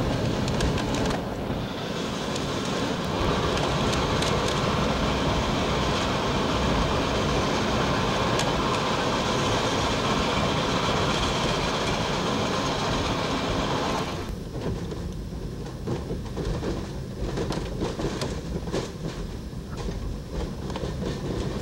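A train rolls along a scenic railroad, heard from inside the caboose at the rear: a steady, loud rumble with wind and rattling for most of the run, then quieter rhythmic clickety-clack of wheels over rail joints.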